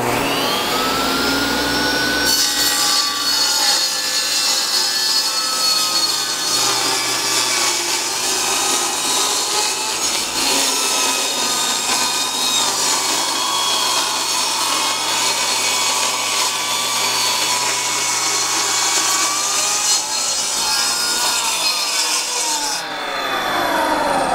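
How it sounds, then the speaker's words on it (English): A table saw rips through a sheet of plywood in a workshop, a loud steady whine and rasping cut running unbroken for over twenty seconds before easing off at the end. "we do need the table saw because we are going to transform this piece of plywood here into the bases we need"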